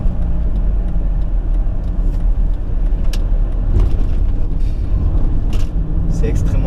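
A 2005 Volvo XC70 2.4 D5 diesel purrs along while driving, a steady low engine rumble with road noise from inside the cabin, under someone talking.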